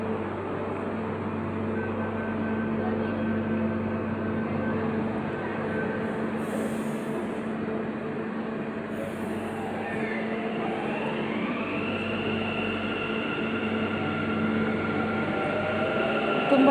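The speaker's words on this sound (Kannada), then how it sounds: "ಜಸ್ಟ್ 1 ನಿಮಿಷದಲ್ಲಿ ನನ್ನ ಟ್ರೈನು ಬರುತ್ತೆ." A metro train pulls into a Bengaluru station, its steady low rumble and rolling wheel noise filling the platform, with a rising whine as it slows near the end; no one speaks.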